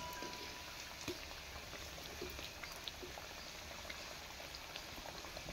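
Khaja pastries fry slowly in moderately hot oil, making a faint, continuous bubbling sizzle with scattered soft pops.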